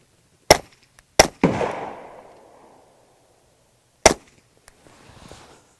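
Suppressed subsonic 9mm shots through a Liberty Mystic X silencer at an outdoor range: sharp close cracks, one with a longer rolling tail, then a pause and another crack, with faint distant gunfire behind.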